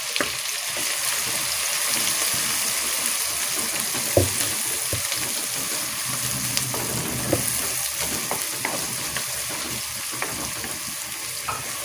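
Chopped onions sizzling steadily in a pan for kaleji masala, a continuous close frying hiss with occasional stirring clatters and scrapes.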